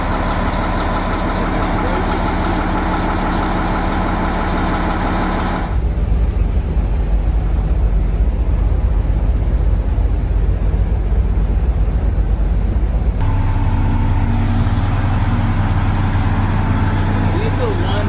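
A diesel engine in a vehicle converted into a building on wheels rumbles at a steady idle, loud and close throughout, with a shift in tone partway through.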